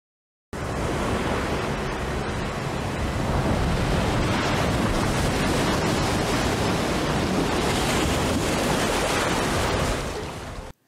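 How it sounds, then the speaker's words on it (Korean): Beach waves at Normandy from the film Saving Private Ryan: a full, steady wash of surf that rises in after a brief silence and rolls on evenly before cutting off. "해변의 파도 소리를 먼저 들려준 뒤 해변의 모습은 나중에 보여주는 것이죠."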